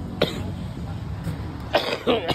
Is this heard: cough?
yes